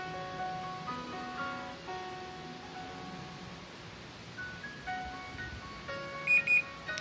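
A Panasonic top-load automatic washing machine beeps a U12 error: thin electronic tones scattered over a low hum, ending in a brighter double beep.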